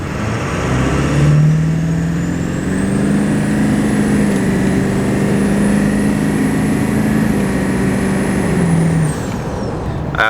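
A 7.3 Powerstroke diesel truck with a performance chip makes a quick takeoff, its engine note and turbo whistle rising and holding loud and close for several seconds before easing off.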